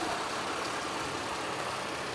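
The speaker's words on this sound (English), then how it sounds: "Underneath the hood has the V6 engine, idles smoothly." A 2008 Chevy Uplander's V6 engine idles steadily under the hood, a smooth continuous hum and whir with no revving, close and even throughout.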